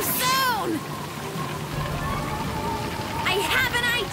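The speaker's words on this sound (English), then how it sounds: "It'll probably just be a light drizzle." Cartoon rain falling as a light drizzle, a steady hiss of drops running throughout under bright chirpy sound effects at the start and end.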